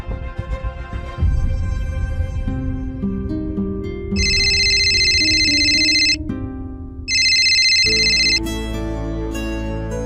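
A phone ringtone plays a looping electronic melody, with two bursts of bright, buzzing ring tones between the musical phrases, loud and clear.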